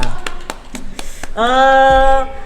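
A crowd at an Indonesian Independence Day event applauds Kak Vinda. About five sharp, evenly spaced claps ring out close by, then a sustained tone takes over.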